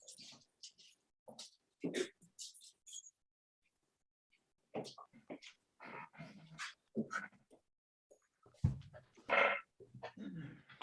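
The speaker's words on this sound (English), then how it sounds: "I have no idea what it is with my dog and Zoom meetings." A dog whimpering and whining at home during an online meeting, heard as scattered short, high, nasal whines in broken bursts with quiet gaps between them.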